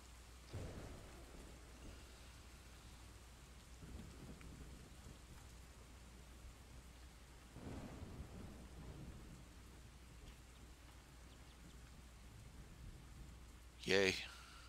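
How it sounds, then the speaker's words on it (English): Steady rain with low thunder rumbles heard faintly indoors, a soft continuous hiss with a few deeper swells and a brief sharp click near the end. "Can you hear the rain?"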